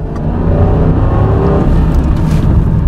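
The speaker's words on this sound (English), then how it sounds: "So now we're going to drive this guy. And we want to just sort of drive normally, but accelerate all the way up." A 2003 Ford Thunderbird with a fuel trim fault accelerating at wide open throttle, a loud, close engine drone that climbs steadily in pitch with a rushing whir beneath, no talking.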